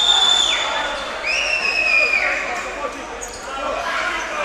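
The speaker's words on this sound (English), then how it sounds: "Applause all around the stadium." Stadium crowd at a football semi-final match applauding and murmuring in a broad, steady wash of noise with a few whistle-like tones above it, a dense distant roar filling the whole stretch.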